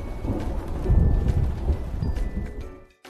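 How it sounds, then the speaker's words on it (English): Steady rain pours down with low rolling thunder rumbling through it, loud and close throughout, before it cuts off abruptly near the end. "It began to rain."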